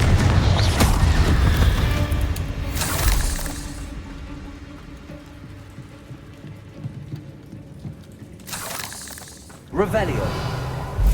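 A Confringo blasting spell from Hogwarts Legacy bursts loudly at the start, with a crackling, rumbling explosion that fades through a long decaying tail, then a second sharp blast follows near the end; a voice calls out spell names over the action.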